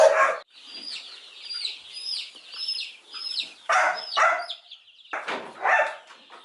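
Creole chickens on a farm cluck and squawk in several bursts, fairly close, with sharp calls separated by brief quiet gaps and no talk.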